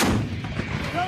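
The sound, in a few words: military artillery firing on command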